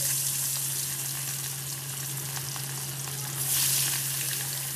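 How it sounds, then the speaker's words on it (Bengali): Hilsa fish pieces fry in hot mustard oil in a wok, giving a steady, close crackling sizzle with a low hum underneath. The sizzle swells briefly near the end. "এবার যতক্ষণ মাছটা ভাজা হচ্ছে,"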